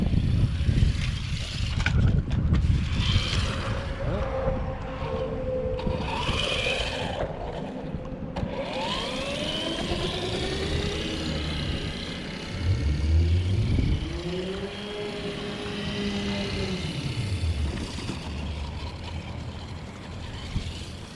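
A Dromida Backbone RC car drives about, its small motor whining and rising and falling in pitch over steady wind noise through the microphone.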